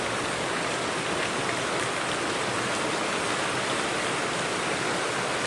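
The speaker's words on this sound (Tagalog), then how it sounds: "Nabutan ako ng malakas na ulan guys." Heavy rain pours down steadily, a dense, unbroken hiss with no pauses.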